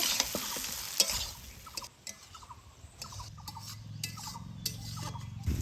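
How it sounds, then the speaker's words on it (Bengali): Spiced shola kochu (taro) being stirred and fried in a pan, with steady low sizzling under repeated scraping strokes of a spoon, close and moderately loud, no talk. "এবার শলা কচুগুলা কিন্তু বেশ ভালো করে একদম কষে নিব।"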